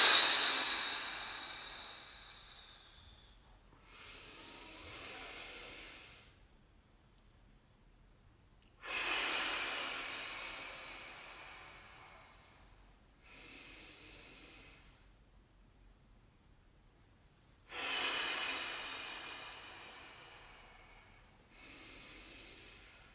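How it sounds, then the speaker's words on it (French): Long breaths blown out through an open mouth during a guided meditation, several slow airy exhales coming in a regular cycle with quiet pauses between, close and soft, the first and louder ones gusting strongly. "Et on souffle la bouche ouverte."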